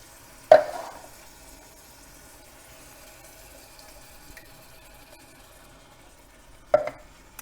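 Tomatoes being mixed into a very big pan of garlic for a lamb meatball pasta bake, two sharp clanks of a utensil against the pan separated by a long quiet stretch with faint low sizzling.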